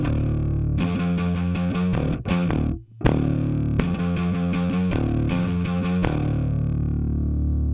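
Bass guitar run through a heavy-gain overdrive distortion pedal on a Line 6 HX Stomp, playing loud gritty riffs with rhythmic stabs and a couple of brief pauses, with no talking.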